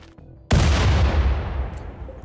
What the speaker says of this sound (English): He throws grenades even though they're not breachers?